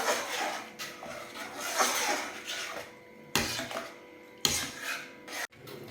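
Milk being stirred into payasam in a pot, heard as soft, uneven rubbing and scraping strokes of a spoon against the vessel, close by, with a few sharper knocks near the end and no talking.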